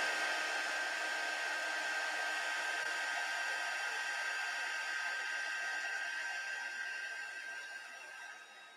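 Close, loud hair dryer drying wet watercolor paint, a steady airy roar with a constant whine that holds the whole time and eases off slightly at the end.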